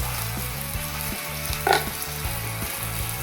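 Curry leaves and cumin seeds crackle in hot oil for a buttermilk rasam, giving a steady close sizzle with one brighter spatter pop near the middle.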